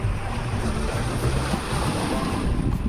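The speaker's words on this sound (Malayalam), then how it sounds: "ഞാൻ വെള്ളം കയറി ഇറങ്ങി പോകുന്നതൊക്കെ ഒന്ന് വിഷ്വൽ കാണിക്കാം." Continuous rushing wash of sea surf on Munambam beach in Kerala, mixed with wind noise buffeting the microphone, no voices.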